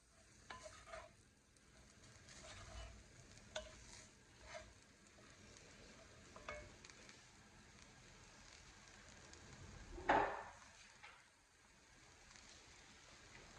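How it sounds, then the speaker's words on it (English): Leftover fried rice with black pepper chicken and edamame sizzles and crackles gently in a hot pan while being stirred, with occasional scraping strokes and one louder stir partway through, steady and fairly quiet throughout. "I'm just going to heat it through"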